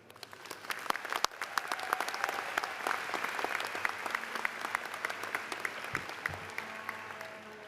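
A large audience at a Springfield Technical Community College commencement breaks into sustained applause, a dense, steady wash of clapping that holds evenly for several seconds with no speech over it.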